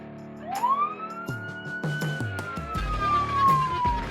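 Police car siren wailing as it rises and slowly falls in a long sweep, moderately close, over traffic noise with scattered knocks and clunks.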